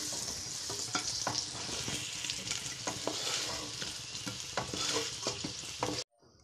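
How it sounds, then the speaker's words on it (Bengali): Fried potatoes are stirred and scooped out of a sizzling pan of oil, with dense frying crackle and repeated close scraping and clinking of a spatula, stopping abruptly near the end. "আলুটা ভাজা হয়ে গেছে,"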